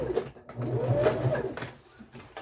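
Sewing machine stitching a bridal satin skirt, running in a steady continuous whir close by with a low mechanical hum throughout and no talking.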